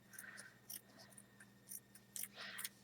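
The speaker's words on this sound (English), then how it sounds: "And then just snip off this extra end we don't need." Scissors snip through a paper strip, trimming off the end in several short, crisp cuts spaced irregularly, close and quiet over a low steady background hum.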